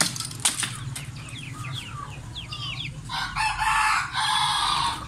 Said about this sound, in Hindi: सारे जितने भी चूजे थे बड़े छोटे सारों को मैंने जो है खोल दिया है।